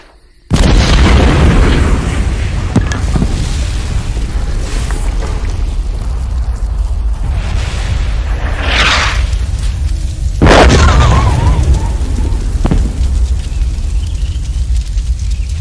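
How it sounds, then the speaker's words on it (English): Artillery shells exploding in the video game Fallout 76: a loud boom opens the stretch, followed by rolling rumble and two more sharp blasts later on, with no talking. "Here comes the Vault 69 artillery shells."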